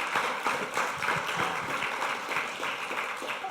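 An audience claps steadily for a speaker at a weekly morning meeting, a sustained dense patter of many hands at moderate volume with no voices over it.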